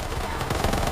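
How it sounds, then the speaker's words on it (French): A dense burst of rapid gunfire rattles continuously, loud and close, like automatic weapons firing. "une fusillade meurtrière éclate dans la ville."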